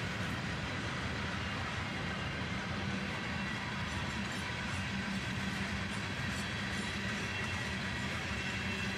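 A long freight train with five locomotives, including EMD units and a road slug, pulling boxcars and many tank cars, accelerates past nearby in a steady, loud rumble of wheels and engines that holds throughout.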